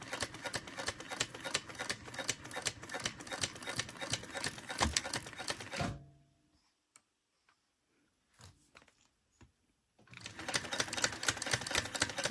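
A sewing machine rattles through a rapid back stitch, a dense run of mechanical ticking that stops dead for several seconds, gives a few faint clicks, then resumes at full speed.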